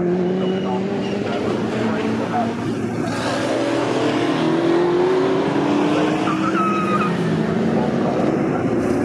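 A V8 Aston Martin historic race car roars down the straight at Snetterton, its engine loud and sustained with shifting pitch as it drives close by, while a commentator talks over it.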